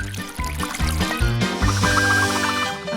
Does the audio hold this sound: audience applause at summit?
no